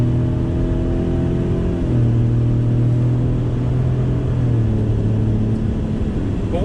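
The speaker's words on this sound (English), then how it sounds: "The sound of that EcoBoost, it gives such a unique sound to it." A 2019 Ford Raptor's EcoBoost engine pulls hard under throttle out of a turn, a steady loud droning rumble with pitch shifting slightly as it accelerates, heard from inside the truck.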